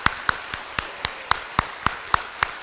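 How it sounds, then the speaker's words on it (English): A single person or small group clapping at a school dedication ceremony for teachers, sharp distinct claps in an even slow rhythm, about ten in a row, alone without talk. "let's give them a big round of applause"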